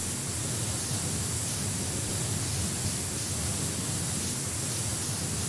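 Steady pressure-washer water spray in PowerWash Simulator 2, a dense, even hiss of streaming water that holds unchanged and loud throughout, with no voices.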